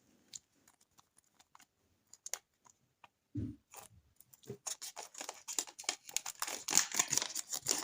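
Crinkling of a small paper sticker packet handled during an unboxing, sparse faint rustles at first, then a sudden thump and denser, louder crackling and crumpling in quick bursts close by.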